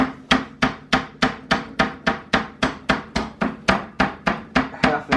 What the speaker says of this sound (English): Whack it with a rolling pin.